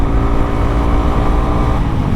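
Honda CRF300L motorcycle engine fitted with a MotoX aftermarket exhaust, a steady loud, rumbling drone held at speed on a windy road, continuous and close without pauses.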